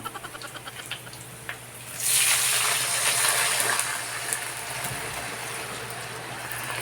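A glass of water poured into fish broth cooking in a pot, a steady close gushing splash lasting about two seconds, then settling into a quieter simmering hiss.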